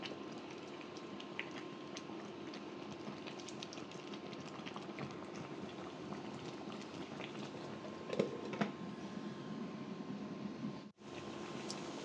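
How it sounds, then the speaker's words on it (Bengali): Bottle gourd curry simmers steadily in a covered pot for a traditional Bangladeshi village dish, a continuous soft bubbling hiss with a couple of faint clinks near the end. "ঢাকনা দিয়ে ঢেকে আরো কিছুক্ষণ রান্না করব।"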